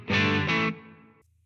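A single electric guitar chord rings through a small old reverb effect in the Fender Studio app, struck twice in quick succession and then fading into a short decaying tail.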